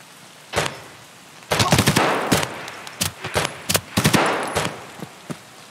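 Bursts of gunfire in Escape From Tarkov, sharp single shots followed by clustered rapid volleys, some louder and closer than others, separated by short quiet gaps over a faint background.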